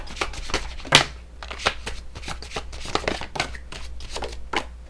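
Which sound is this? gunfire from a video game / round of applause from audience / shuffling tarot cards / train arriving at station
shuffling tarot cards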